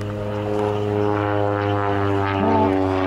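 A fully aerobatic propeller airplane drones steadily overhead at an airshow, its loud engine note holding a constant pitch with a slight swell toward the end, heard alone without talk.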